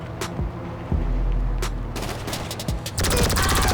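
Loud gunfire rings out in the video game GTA Online: several sharp, close single shots, then a fast rattling burst at the end, with no voices.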